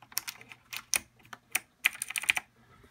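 A bare Razer Ornata Chroma keyboard switch with its keycap removed is pressed repeatedly, giving sharp close clicks in irregular quick bursts over a quiet background.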